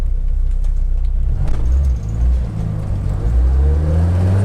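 A Renault Logan car passes on the road, a loud, close engine rumble and tyre whir that swells and fades over a few seconds with no talk.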